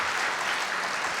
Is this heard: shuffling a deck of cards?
no